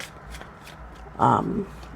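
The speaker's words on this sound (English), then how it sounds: "Look how I shuffled that, and I still got the Scorpio card on the bottom of the deck." A deck of tarot cards is shuffled in one short, close burst of riffling that rises, holds briefly and stops, with quiet room tone on either side.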